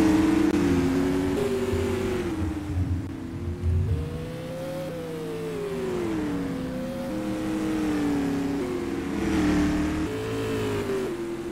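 Race cars lapping a track during a SUPRS heat race, several engines droning and revving together with shifting pitch at a loud, steady level.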